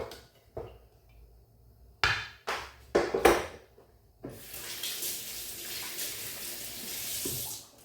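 Hands washed under a running kitchen tap while preparing cassava banana rolls, with a few knocks and splashes before a steady, fairly close stream of water runs alone.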